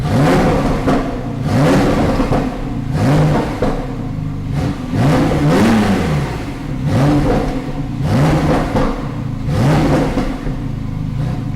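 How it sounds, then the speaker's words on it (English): Porsche Carrera sports exhaust blipped repeatedly, about seven quick revs rising and dropping close by, with popping and crackling on the overrun between them and no one talking. "And you can hear it pop and crackle."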